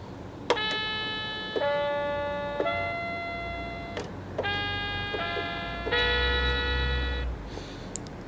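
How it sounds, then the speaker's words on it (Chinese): A toy electronic keyboard set to its trumpet voice plays a string of separate sustained notes, each starting with a click of the key, bright and buzzy at close range with no talking. "然后我们再转到第3个是喇叭。"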